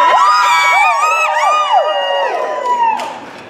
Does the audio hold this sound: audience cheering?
yes